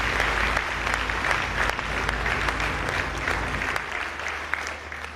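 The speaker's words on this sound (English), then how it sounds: "Please give them a big round of applause." A large conference audience gathered on early marriage gives sustained, dense applause at a steady level, tapering slightly near the end.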